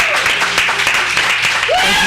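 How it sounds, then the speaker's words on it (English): Applause from a church congregation welcoming a youth pastor, a dense steady wash of clapping with a bit of voice mixed in, filling the short moment at even loudness. "Let's give him a round of applause."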